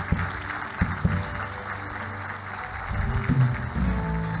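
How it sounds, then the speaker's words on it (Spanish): A church congregation applauds during a pastor's service; the steady, soft patter of many hands sounds somewhat distant, with a low hum beneath and a few louder claps standing out. "Un aplauso para la anciana Julia,"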